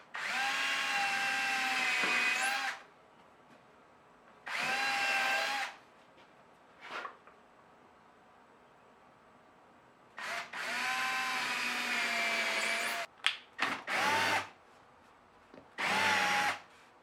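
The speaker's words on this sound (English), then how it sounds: "You definitely want to drill pilot holes and don't over tighten the screws" A power drill whirs in separate bursts while boring pilot holes and driving screws into a box for a sandpaper storage rack, loud and close, with short pauses and quick stuttering pulses between longer runs.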